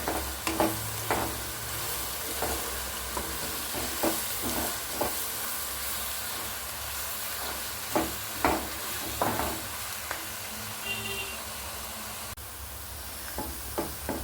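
Sliced onions with a spoonful of sugar fry in oil toward golden brown, a steady bright sizzle punctuated by repeated sharp spoon scrapes and stirs against the pan throughout.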